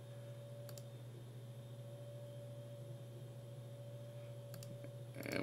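Two faint, sharp mouse clicks sound near the start and the end over a steady low electrical hum from a computer, with no talk.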